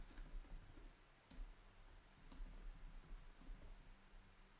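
Quiet, steady clicking of keys on a computer keyboard, with irregular bursts of typing and no talking.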